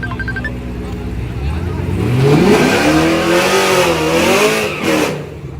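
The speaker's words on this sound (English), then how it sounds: "he thought to do a burnout" A car does a burnout at the Yello Belly Drag Strip, its engine revving up loud and close with rising, wavering pitch over a constant roar, while a crowd chatters in the background.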